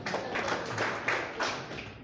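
Audience at a joint opposition press conference claps in a dense, steady patter of many hands, fairly close and moderately loud, with slight swells and no voices over it.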